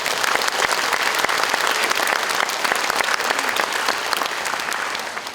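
Sustained applause from an audience at a carbon-neutrality practice event, dense steady clapping throughout that tapers slightly near the end, with no talk over it.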